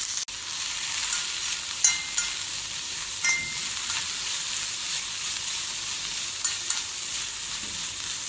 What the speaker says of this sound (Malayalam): ഇനി ഇതേ പാനിലേക്ക് മുറിച്ച് വെച്ച ബീട്രൂട്ട് ഇട്ട് വഴറ്റാം.